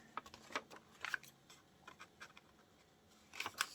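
Paper being cut with scissors for a crossword puzzle collage, a few quiet crisp snips and rustles close by, ending in a brief cluster of sharper cuts.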